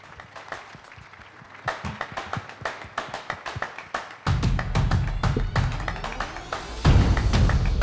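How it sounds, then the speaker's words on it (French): Audience applause at an opening ceremony, starting as scattered claps and swelling into dense, sustained clapping from a large crowd in a hall, growing louder near the end. "Sous vos applaudissements"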